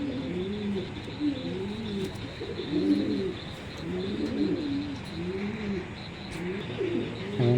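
Racer pigeons coo in repeated, rolling phrases close by, a low throaty rhythm that returns every second or so, with a few light chirps and faint background noise.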